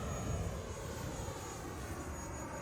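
An FMS Scorpion 90mm RC jet plane flies under power, giving a steady whooshing roar at moderate distance without voices.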